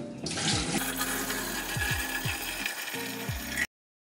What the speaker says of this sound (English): I'm actually gonna dump this water into this pitcher